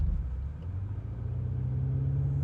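A 2025 BMW M5 Touring with a twin-turbo 4.4-liter V8 launching under launch control: a steady, deep engine rumble whose tone rises slightly as it pulls, heard from inside with no talking.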